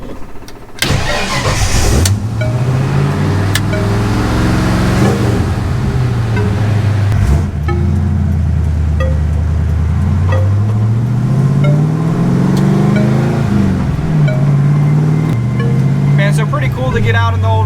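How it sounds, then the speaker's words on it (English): Engine of an old Ford Ranchero running on a drive to the store, a loud steady mid-pitched drone that rises and falls with shifting revs and gear changes throughout, close by, with a few brief knocks. "I'm gonna take the Ranchero to the store because we haven't drove it in a little while."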